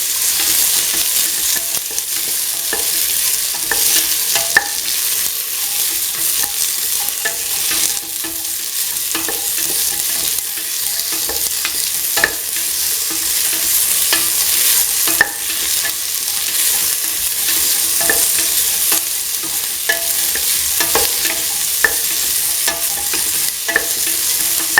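Ivy gourd seeds sauté in a pan, giving a steady bright sizzle of frying with repeated scraping and clinks from stirring at irregular intervals, close and prominent, no voices.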